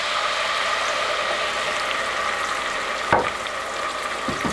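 Butter and green onions sizzling steadily in a skillet as white wine goes in for a crabmeat sauce, a continuous loud hiss with a brief clank of a utensil near the end.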